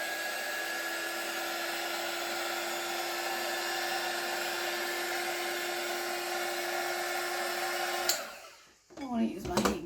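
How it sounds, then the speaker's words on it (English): Heat gun blowing over casting resin, a steady close airy roar with a fixed motor hum that cuts off abruptly near the end, followed by brief clatter and rustling. "I want to use my heat gun. That's blowing it too much."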